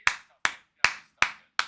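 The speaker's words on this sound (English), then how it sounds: "Round of applause." Five crisp, evenly spaced hand claps close to the microphone, each a sharp isolated snap with a quick decay, alone without other sound.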